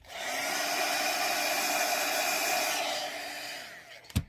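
A heat tool warms a silicone mold to release resin chess pieces. Its steady airy roar runs for about three and a half seconds, fades as it is switched off, and ends with a sharp click.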